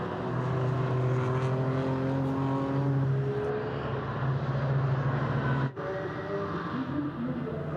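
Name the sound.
BMW race car on the Grand Prix circuit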